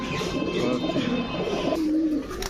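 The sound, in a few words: pigeons cooing at a pigeon sale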